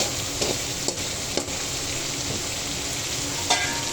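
Chicken sizzles steadily in a hot pan with finely chopped tomato added, a continuous dense frying hiss broken by a few brief stirring scrapes, close and fairly loud with no voices.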